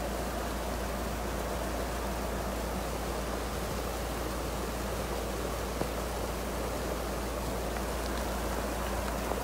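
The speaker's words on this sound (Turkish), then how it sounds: "Daha böyle bir yağmur görmedim ben hiç." Heavy rain pours down in a dense, unbroken hiss of countless drops on surfaces, steady and loud from start to finish on a storm-damaged road near Geyve.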